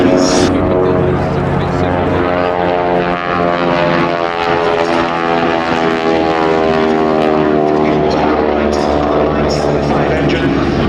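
A Vultee Valiant trainer with a Pratt & Whitney R985 radial engine drones loudly and steadily at an airshow, its propeller hum continuous throughout while a commentator talks over it.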